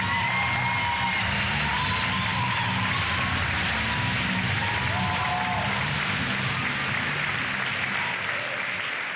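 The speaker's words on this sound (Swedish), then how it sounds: "En stor applåd, här är i alla fall Ola Söderholm!" Steady, dense applause from a comedy roast audience at Berns fills the room at close range, with a few faint cheers and whoops mixed into the continuous clapping.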